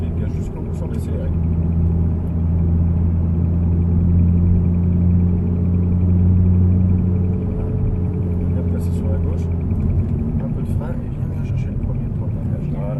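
An Audi R8 on the Issoire race circuit, its engine a steady low droning rumble heard from inside the car, with people talking over it throughout.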